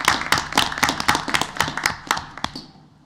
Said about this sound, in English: there's a round of applause required for everyone involved in that